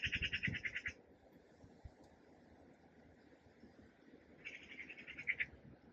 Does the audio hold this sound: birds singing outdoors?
yes